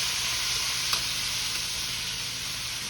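Chicken feet frying in hot oil, a dense continuous sizzle and crackle with a faint stirring knock, steady and close with no talking.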